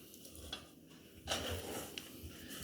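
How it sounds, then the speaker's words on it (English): Chopped onions slide from a board into a cooking pot with a soft, brief rushing tumble, followed by light scattering patters. "And now just literally the whole thing into the pot."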